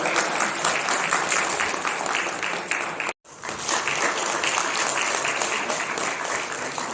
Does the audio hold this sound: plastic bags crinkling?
no